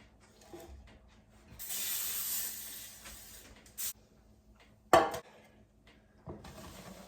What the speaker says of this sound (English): I'm going to spray it with some cooking spray.